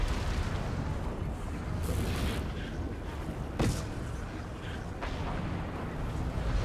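Weapon fire at a ship in the fantasy game Guild Wars 2, a continuous rumbling barrage of booms with a few sharper bursts standing out, fairly quiet and without speech.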